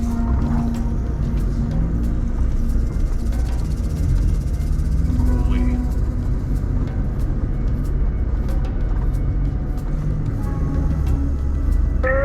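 An off-road vehicle creeps down a steep, deep descent, its engine a low constant rumble close by, with faint creaks and scattered knocks from the body and terrain.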